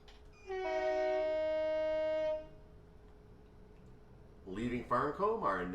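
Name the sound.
train leaving Farncombe station, Portsmouth Direct Line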